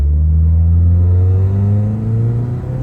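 A car with a Honda D14 engine revs hard, its deep rumbling drone climbing steadily in pitch and holding loud and close throughout, with no talking.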